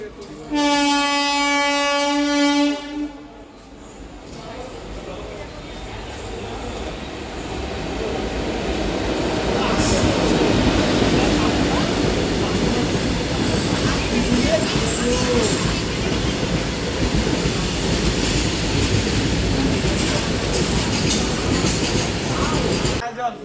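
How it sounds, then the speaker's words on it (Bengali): A freight train rumbles past a railway platform, building to a loud, sustained roar of wagons and wheels after a short horn blast at the start, with faint voices around. "এদিকে সিগন্যাল গ্রিন আছে, কোনো একটা ট্রেন আসছে এদিক দিয়ে, মালগাড়ি"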